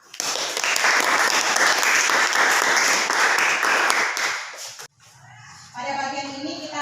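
Classroom applause for a student group: a dense, loud burst of many hands clapping together for about five seconds, then it cuts off and a quieter stretch of room noise follows.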